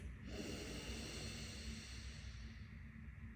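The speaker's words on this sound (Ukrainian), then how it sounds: "через ліву ніздру робимо глибокий вдих через ніс" A slow, deep inhale through the left nostril during a breathing exercise, a soft, close airy hiss that starts abruptly and stretches steadily over about three seconds at low volume.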